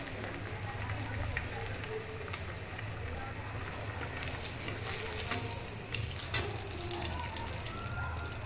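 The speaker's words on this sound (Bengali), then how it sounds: "তার জন্য কাঁকরোলগুলো একটু ভেজে নিলাম, খেয়ে নেব।" Slices of spiny gourd (kakrol) fry in a pan with oil, giving a steady close sizzle dotted with small crackles and pops throughout.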